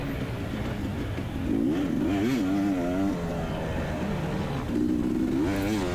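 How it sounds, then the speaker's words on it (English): A KTM 250xc two-stroke dirt bike on a motocross practice track, its engine droning steadily up close with rising and falling revs and a couple of louder throttle surges. "the back of the bike started spinning a little there"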